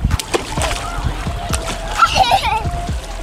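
A young girl splashes and plays in water outdoors, with close, repeated splashes and sloshing while adults talk and encourage her nearby.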